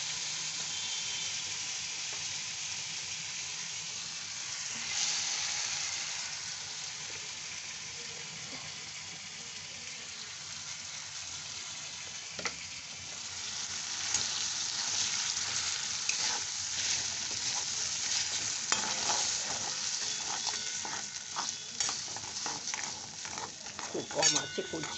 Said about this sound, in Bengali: এইবার আমি এই ডাল বাটা দিয়ে দিচ্ছি